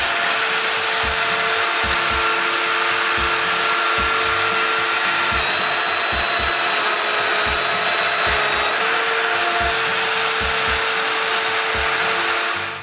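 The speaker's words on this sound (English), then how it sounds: "I need to make the styles mortises too." A Festool Domino joiner cutting stile mortises in wood for window frames gives a continuous high motor whine with repeated low thumps at an uneven pace, loud and close, with no speech.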